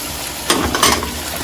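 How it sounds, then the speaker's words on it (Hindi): Ginger, garlic and yogurt paste goes into a pot of frying mutton for shahi mutton pulao, a loud close sizzle flaring in two short bursts over a steady hiss while a spoon stirs. "ये हमने अदरक, लहसुन और दही का पेस्ट बनाया था, ये भी इसमें जा रहा है"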